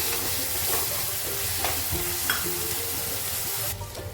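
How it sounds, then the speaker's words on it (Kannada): Lemon rice (chitranna) frying in a hot pan, giving a steady loud sizzle throughout with occasional scraping stirs of a spoon, ending with a brief clatter, no voices. "ಚೆನ್ನಾಗಿ ಫ್ರೈ ಮಾಡಿ."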